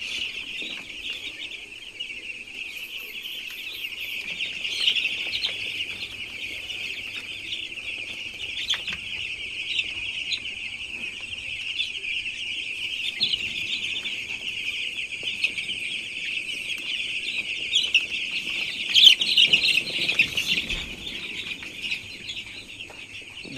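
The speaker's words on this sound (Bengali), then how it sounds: "গাইস, এখন কিন্তু সবগুলো মুরগি পানি খাচ্ছে।" Chickens in a poultry shed cluck and chirp steadily throughout, a dense flock chorus close by with occasional louder calls standing out.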